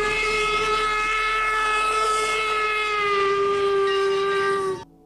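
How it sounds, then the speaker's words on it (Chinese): A steam train whistle from a Minecraft train mod blows as one long, loud, steady tone for about five seconds, then stops abruptly. "同时呢火车的音效也很好的还原了出来"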